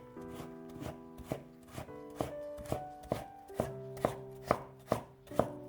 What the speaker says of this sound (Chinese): 胡萝卜去皮之后，先切成薄片， 再切成细丝。